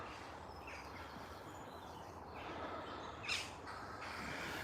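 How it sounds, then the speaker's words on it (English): A flock of birds calling from trees beyond an open grassy area, with faint squawks and chirps drifting in over a low outdoor hiss and one louder, sharper call near the end. "a bunch of birds"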